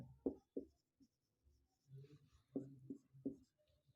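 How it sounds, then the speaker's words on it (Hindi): Writing short notes on a board during a live polytechnic physics class on heat, a quiet series of irregular taps and scratchy strokes with short gaps between them. "ये ऊष्मा क्या है, इसके सामने मैं शॉर्ट में लिख दे रहा हूं।"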